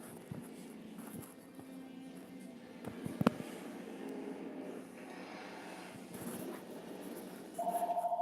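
An Xfinity Voice incoming-call alert sounds near the end as a steady, repeating electronic tone, rising out of a low room hum.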